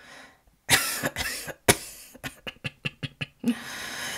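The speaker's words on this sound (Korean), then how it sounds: "늑대는 들킬까봐 얼른 마른 기침을 하며 말했어요." A run of dry, raspy coughs close up, starting with a few strong bursts and ending in quick short hacks.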